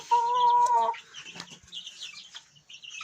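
A chicken gives a drawn-out call, followed by soft clucks and cheeping from several birds and chicks nearby, fairly quiet.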